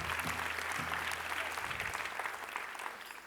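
An audience at a secondary-school awards gala claps warmly, a dense patter of applause that gradually fades toward the end, with a brief voice at the start.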